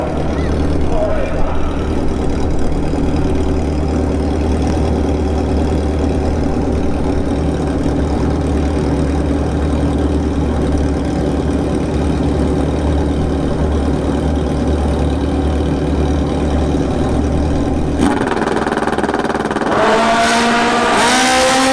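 Loud, steady motorcycle engine drone from a pair of Kawasaki ZX14 bikes at a drag strip during a bracket racing event, running continuously, then a rising rev near the end; talk can be heard over the engine noise.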